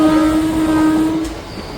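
The Ganadevta Express between Azimganj and Sagardighi rolls along the rails with a loud sustained horn-like tone that holds for about a second before cutting off, leaving rumbling wheel noise.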